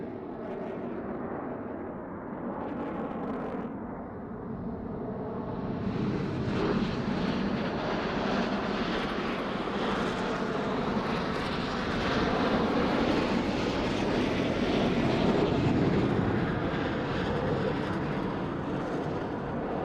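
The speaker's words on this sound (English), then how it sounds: "The virtual Roblox Blue Angel Diamond will be momentarily making switch from the right." Blue Angels diamond jet formation flyby in a Roblox game: a jet roar that swells from a quieter rush into a loud, broad, sustained whoosh and holds there for many seconds.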